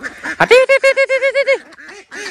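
Domestic ducks quack loudly in a rapid run of about eight honking calls, close to the listener, then fall to softer scattered quacks as they wait to be fed.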